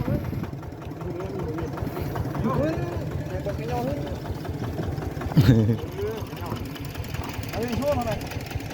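A farm tractor engine idles with a steady low chugging rumble, and voices talk over it while a brief louder clatter cuts in partway through.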